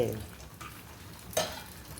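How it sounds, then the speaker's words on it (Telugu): Cashews fry in a pan on the stove for a Sankranti feast, a soft sizzle broken by two brief stirring scrapes, quiet and close. "జీడిపప్పులు వేయించేసుకొని దోరగా వేయించేసుకొని"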